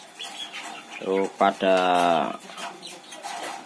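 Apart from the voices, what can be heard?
chickens clucking at feeding time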